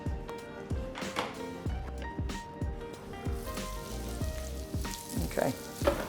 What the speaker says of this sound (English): line just a touch of oil in your hot pan. And we're going to go in with the onions